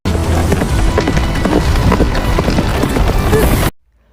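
A horse gallops hard, rapid clip-clopping hooves loud and close, pounding in a driving rhythm before cutting off abruptly to silence.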